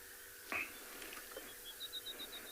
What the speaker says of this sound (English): I can hear a few birds waking up.